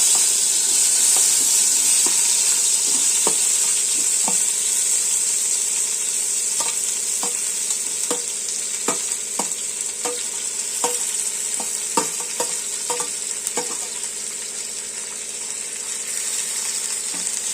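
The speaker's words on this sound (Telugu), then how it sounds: "కొంచెం ఆయిల్ తీసుకొని మనం ముందుగా కట్ చేసి పెట్టుకున్న టమాటా ముక్కలను ఇందులో వేసుకోవాలి" Tomato pieces fry in oil in a pan with a loud, steady sizzling hiss, while a spoon stirs them and scrapes the pan in irregular taps and clatters throughout.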